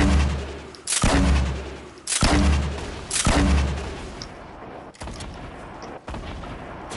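Launcher shots in the video game Fortnite: several heavy, loud blasts in a row, each a broad burst that decays into a rumbling tail, with explosive impacts layered among them.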